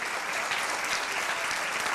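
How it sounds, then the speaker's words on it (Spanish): A church congregation applauds the Lord during a Spanish-language sermon, a short, steady burst of dense clapping at moderate, slightly distant volume. "dale un aplauso al Señor"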